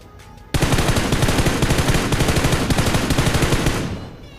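A loud, close spray of continuous automatic rifle fire from a solo third-person battle royale game runs unbroken for about three and a half seconds. It fades slightly at the end, with no voices.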